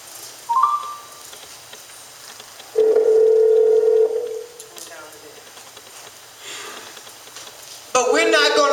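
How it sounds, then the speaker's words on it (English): A telephone is dialed: a short beep, then a long steady dial tone, followed by a burst of rapid keypad tones near the end, close and clear with quiet stretches between. "I want you to dial Corey Sanders' phone number"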